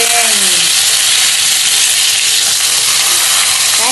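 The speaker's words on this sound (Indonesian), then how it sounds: "Ini ikannya tak goreng." Fish frying in oil in a pan at home, a loud, steady broadband sizzle that fills the whole clip without pause, with a few faint tones near the start and end and no talking.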